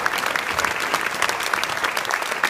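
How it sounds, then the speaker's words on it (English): A conference audience in Essex, gathered on hate crime, claps steadily throughout, a dense, even wash of many hands with no voices standing out. "Shall we all give them a big round of applause?"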